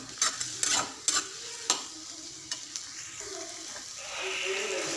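Onions and tomatoes sautéing in a pan with a spoon scraping and clanking several times over a soft sizzle, close up, then a steadier frying hiss at the end.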